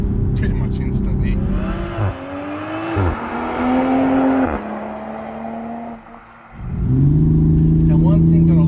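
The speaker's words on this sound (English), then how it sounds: "Press that sport button and then put your foot down again. Pops and crackles up here pretty much instantly." A 2020 Toyota Supra in sport mode accelerates hard on back roads. The engine note climbs through several gear changes with brief lifts between them, then a loud renewed pull, and the exhaust pops and crackles, all close up from inside the car.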